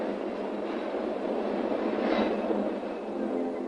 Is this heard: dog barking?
no